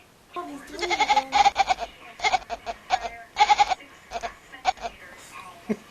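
A kitten gives repeated high, bleating meows that sound like a baby goat, coming in quick bursts close to the microphone, with people talking and laughing softly in between.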